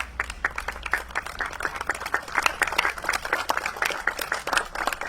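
Board members of the Friends of the Odell House are applauded by an audience at a house transfer ceremony to the Town of Greenburgh, with dense, steady clapping from many hands filling the room for the whole stretch.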